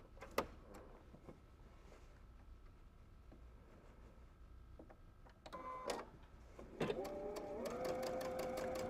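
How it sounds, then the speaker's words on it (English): A sewing machine edge-stitches the raw edge of a wool seam, starting with a few quiet clicks and then running in a steady whirring, rapidly ticking stitch toward the end. "we're just going to edge stitch this raw edge."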